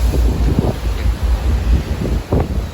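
Strong wind at sea, mid-crossing from Merak port in high waves, buffets the microphone in a steady roar, with low rumbling gusts and a faint wash of sea underneath.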